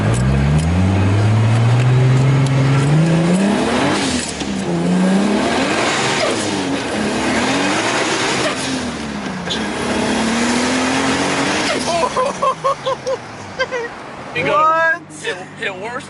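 Nissan S13 with a swapped 2JZ-GTE engine accelerates hard, its loud engine note climbing through repeated rising sweeps as it shifts gears, then backing off with pops. Voices talk excitedly over it inside the car.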